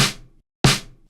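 Two loud, full snare drum hits, each a sharp crack with a short ringing decay, separated by a brief silence.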